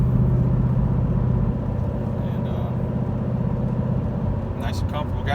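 Steady low engine drone of a 2013 Mustang GT with a Flowmaster Thunder Series exhaust and X-pipe, heard from inside the cab while cruising casually, continuous and fairly loud throughout with no talking.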